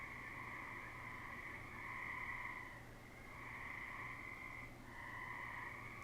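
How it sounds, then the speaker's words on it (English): Frogs croak in a loud chorus through an open window after a thunderstorm, with steady pulsing calls swelling and fading in long repeated phrases over a constant insect buzz and light rain. "Do you hear the amount of frogs?"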